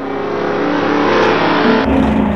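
A heavy truck with a small-block engine revs hard at a drag race, a loud continuous roar that shifts pitch partway through, with no talking over it.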